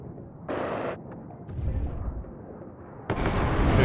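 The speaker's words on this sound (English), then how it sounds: "Goes in for a big bombing run here" Heavy bombing-run explosions in the real-time strategy game WARNO: booming blasts and rumbling detonations rolling over one another, with a bright roar midway and a louder surge near the end.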